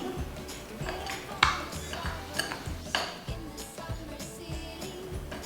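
Lemon cake batter mixed with lemon juice in a bowl gives soft, intermittent clinks and scrapes of a utensil against the dish, quiet and close, with brief sharper taps.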